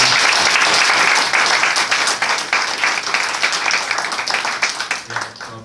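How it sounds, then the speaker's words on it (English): An audience at a political solidarity movement gathering gives a round of applause, steady dense clapping that holds strong then slowly thins and tapers over a few seconds, with no speech over it. "So can we have a round of applause for them?"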